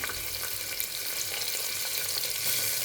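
Onion, garlic and tomato sautéed in oil with cumin and pepper in a pan, making a steady, even sizzling hiss with light stirring and no voices.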